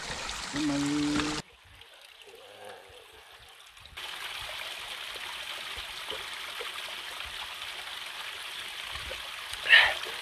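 A mountain stream at a water source in the mossy forest of Mt. Guiting-Guiting's Tampayan-Olango trail rushes in a steady, hissing flow. It runs in abrupt segments, drops nearly to silence for a while and then returns close and continuous.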